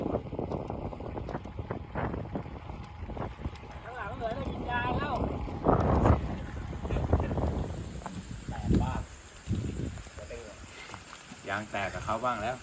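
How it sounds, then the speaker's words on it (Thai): Strong wind roars constantly across the microphone of a long-distance road bicycle at night, a loud, gusting, rumbling buffeting throughout, with someone talking over it. "ลมแรงมาก ฟังเสียงดิ"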